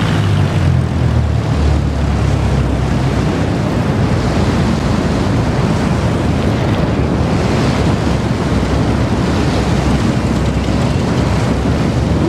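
An airplane propeller engine in Flight Simulator gives a loud, continuous, broadband roar like rushing wind as the engine loses RPM, with no break or change in level throughout.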